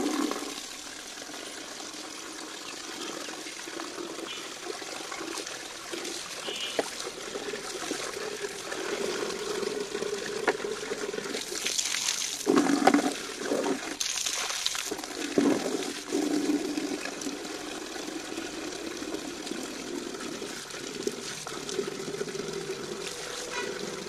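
Water running during bathing indoors, a faint, continuous trickle and stream with a few louder splashing bursts midway, no talking.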